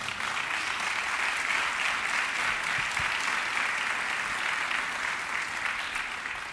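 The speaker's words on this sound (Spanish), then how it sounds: "le demos un fuerte aplauso a los empresarios" Sustained applause from an audience at a national tourism forum in Mexico, a dense, even wash of many clapping hands filling the room without a break.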